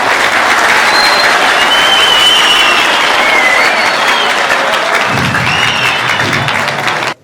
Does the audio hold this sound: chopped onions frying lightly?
no